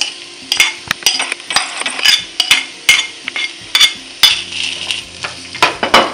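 Chopped onion frying in a pot for Nigerian egusi soup while a spoon stirs and scrapes against the metal, with steady sizzling under irregular clinks and scrapes, close and fairly loud.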